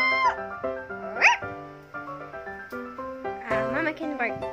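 A voice imitates a dog with several short barks and yips, spread across the clip between bits of playful vocalizing.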